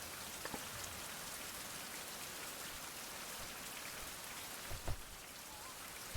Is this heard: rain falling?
yes